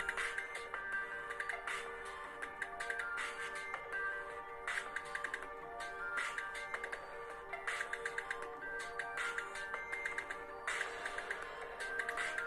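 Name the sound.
music played on a mobile phone at normal volume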